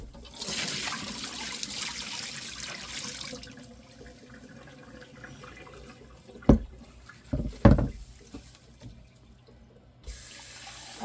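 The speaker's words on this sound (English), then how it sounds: "I'm just going to drain that water out" Old water is poured and drained out of a flower container into a sink, a steady rushing flow that fades into quieter trickling and a few sharp splashes and clunks, then running water resumes briefly at the end.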